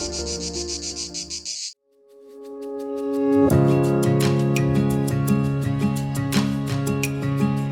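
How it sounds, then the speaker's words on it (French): A loud, pulsing cicada buzz in Provence fills the opening, cuts off abruptly, then sustained tonal droning with rhythmic accents takes over. "avec les cigales en fond sonore"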